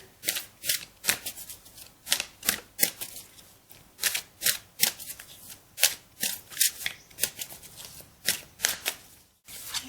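Fairy oracle cards are shuffled by hand in a quick, steady run of crisp riffling bursts, close and fairly quiet, with no talking.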